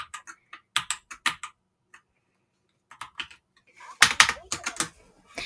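Keys clack on a computer keyboard as a chat message is typed during a Roblox game, coming in short irregular bursts of clicks with pauses, ending in a louder, denser flurry close to the mic.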